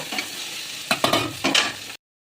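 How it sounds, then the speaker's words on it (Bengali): Ingredients for a butter chicken paste fry in a pan under a soft, steady sizzle, with several quick scraping stirs near the end before it cuts off. "ভালো করে নাড়াচাড়া করে ভেজে নেব"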